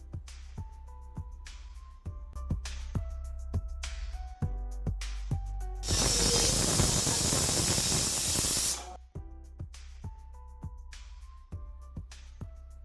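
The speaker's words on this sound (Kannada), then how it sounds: "ಈಗ ಬಾಯ್ಲ್ ಆಗ್ತಾ ಇದೆಯಲ್ಲ, ಆ ಥರ ಒಂದು ಕುದಿಯೋ ಟೈಮಲ್ಲಿ 1 ವಿಷಲ್ ಬಂದರೆ ಸಾಕು." A pressure cooker of mushroom biryani lets out a loud burst of hissing steam lasting about three seconds, set between stretches of steady background music with plucked tonal notes.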